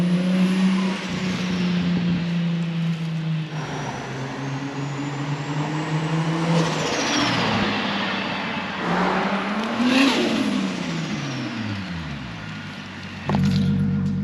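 A modified Toyota JZX90 engine runs loudly up close, with a steady rough drone, pitch swells as it revs and a sharp burst near the end, with no talking.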